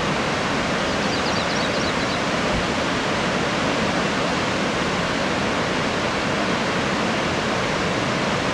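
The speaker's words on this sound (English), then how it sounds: "That's a pretty impressive waterfall right there." Undine Falls in Yellowstone National Park roars as a steady, dense rush of falling water, loud and unbroken throughout with no voices.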